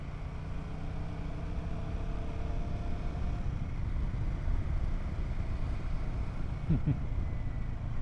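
A Royal Enfield Himalayan 450 motorcycle rumbles past on a forest road with a steady low engine drone and road noise, building slightly toward the middle, with no voices.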